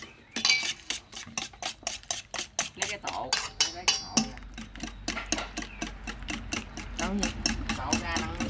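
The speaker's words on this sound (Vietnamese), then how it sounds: "Này mình đánh trứng phải cho nhuyễn nha các bạn" Eggs beaten briskly in a bowl, a fast, even run of close clicking strokes of utensil on bowl that continues throughout with a low background hum underneath.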